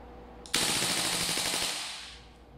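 An 8.5-inch BCM MCMR MK2 airsoft gas blowback rifle fires a rapid full-auto burst after a click, loud and close, with sharp repeated cracks fading into a gassy hiss.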